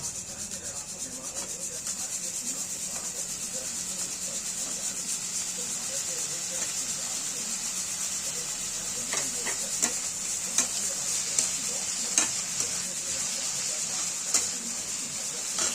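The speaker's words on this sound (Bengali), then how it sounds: "এই আলুগুলো আমরা এই মশলার মধ্যে আমরা দিয়ে দেবো" Potato pieces stirred into a spice masala for Bengali-style ghugni, a steady frying sizzle with scraping stir strokes that sharpen into a few distinct clacks toward the end.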